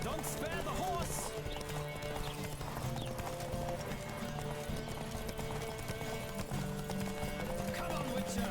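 Horse hooves clip-clopping at a steady gallop in the Witcher 3 video game, continuous and fairly loud, with game music and a horse's whinny mixed in and voices talking over it.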